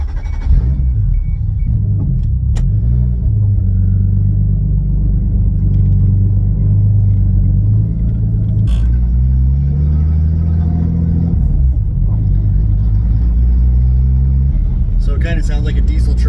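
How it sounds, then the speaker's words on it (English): Car fitted with a loud exhaust tip, heard from inside the cabin while driving: a steady, close low droning rumble that swells and falls as it accelerates, with a diesel-truck-like tone and a few brief clicks. "show you what it sounds like inside the car."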